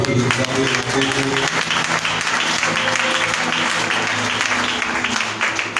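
A church congregation bursts into sustained applause, steady and loud throughout, with faint voices mixed into the clapping crowd.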